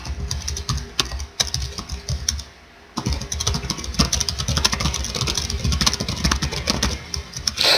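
Rapid typing clatters on a computer keyboard, dense bursts of close key clicks with a brief pause before resuming steadily, no voice over it.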